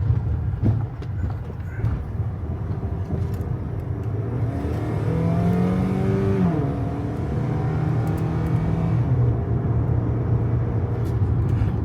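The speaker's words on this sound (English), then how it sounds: "the only thing about this one is I hear a lot of chatter in the motor." GMC Terrain engine idling steadily with a continuous low rumble and some irregular mechanical chatter, heard close at a dealers-only auction with faint background activity and no talk over it.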